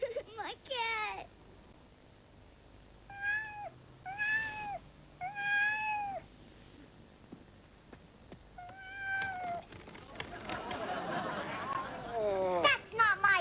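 A cat meows several times in a row, bright rising-and-falling cries spaced a second or so apart, fairly close, with a person's voice and laughter joining near the end.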